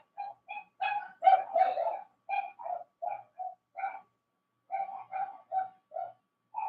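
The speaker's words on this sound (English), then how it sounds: "What are my dogs barking for?" Several dogs bark in short, repeated bursts, a busy volley of yaps and woofs with brief pauses, fairly close and with no talking.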